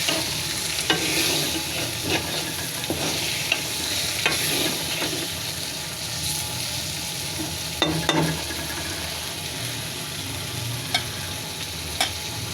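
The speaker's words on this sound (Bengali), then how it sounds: "একই সাথে মশলা সহ ভাজা হয়ে যায় মাছটা।" Taki fish frying together with masala in a pan gives a steady broadband sizzle for the whole stretch, broken by occasional louder clatter and stirring scrapes. No one speaks.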